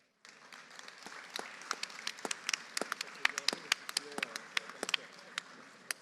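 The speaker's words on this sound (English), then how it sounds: "Please give a big round of applause to our speakers." Audience applause for speakers at the close of a panel discussion on the nuclear industry, a burst of scattered hand claps starting abruptly and continuing unevenly at moderate volume in a quiet hall.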